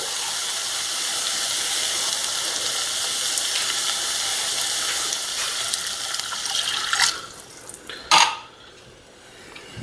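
A can of water pours into tomato paste for calzone sauce, a steady liquid rush that tapers off, followed by a couple of sharp metallic clinks from the can or pot.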